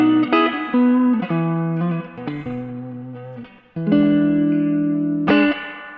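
Electric guitar through a tube amplifier plays warm, sustained chords and single notes with a slightly driven tone and a light trailing reverb, with no talking over it.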